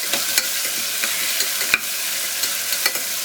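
Tomatoes sauté in a pan for a tamarind curry of four mixed vegetables, a loud, dense sizzle with frequent sharp spoon scrapes and taps against the pan, close up.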